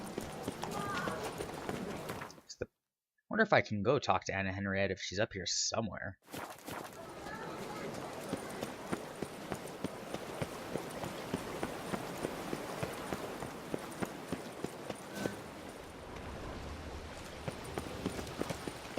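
Horse hooves clip-clop steadily in The Witcher 3: Blood and Wine, a continuous walking rhythm over game ambience, with someone talking briefly near the start.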